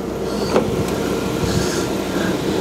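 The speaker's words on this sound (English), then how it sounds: "I've got the engine running with the heater going." A 2016 Fiat 500 Pop idles steadily with the heater fan running, a low continuous engine hum and blower noise heard from inside the car, with a few faint clicks.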